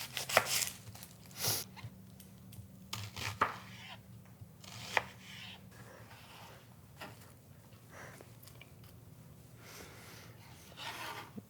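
Carrots being chopped on a board for shrimp ceviche, a run of irregular, fairly quiet knife taps with pauses between and faint breathing and handling noise nearby.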